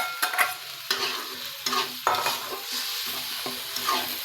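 Stirring and mixing egg korma ingredients, including almond paste, in a pan: repeated scraping strokes from a utensil against the pan over a soft sizzle, with several sharp spoon knocks at uneven intervals, close and fairly loud.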